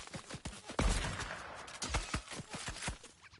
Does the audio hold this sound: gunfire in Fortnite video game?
yes